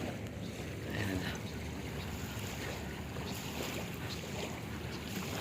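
Waves wash against a seashore in the dark with a steady, unbroken roar mixed with wind buffeting the microphone, continuous and fairly loud throughout with no talking.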